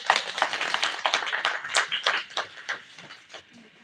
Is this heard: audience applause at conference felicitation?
yes